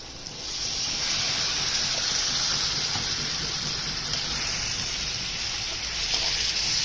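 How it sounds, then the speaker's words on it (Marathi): Water hisses and bubbles into a pan of cooking tomato masala for egg curry, a steady, even sizzling wash that holds at a moderate level from start to finish. "आता मसाला शिजण्यासाठी आपण थोडंसं पाणी टाकणार आहोत"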